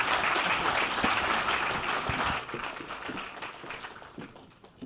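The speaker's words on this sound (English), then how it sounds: "A round of applause, please." A conference audience applauds panelists after an industry discussion, a dense wash of clapping that stays full at first and then gradually thins and fades toward the end.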